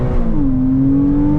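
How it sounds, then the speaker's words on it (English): Intake of a Porsche 987.2 Cayman S, a steady loud droning hum close up, with pitch rising slightly then holding as the engine revs. "Intake sound."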